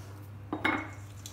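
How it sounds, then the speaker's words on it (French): Salmon, parsley and basil mixture being stirred in a bowl, a brief clink and scrape of utensil against the dish, close and quiet. "Et je mélange."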